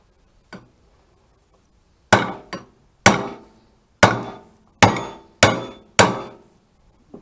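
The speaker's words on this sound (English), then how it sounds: "if you're going to hammer, make sure it's close to the size of the cap" Sharp metallic hammer strikes on a U-joint cap of a 1978 Toyota pickup, about eight blows spaced roughly half a second to a second apart, loud and close with short ringing decays.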